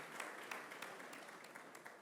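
Audience applause at a conference session on malnutrition in Africa, a fairly quiet, steady wash of many hands clapping with no talk, fading slightly toward the end.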